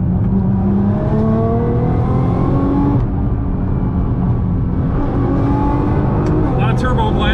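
A Nissan R35 GT-R accelerating hard with turbo lag, its engine note climbing in pitch through the gears with brief dips at shifts, loud and close from inside the car, with a voice talking over it.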